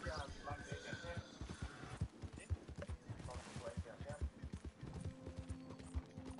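Horse hooves clip-clop in the Red Dead video game, with steady rhythmic hoofbeats running through the whole stretch while someone talks over them.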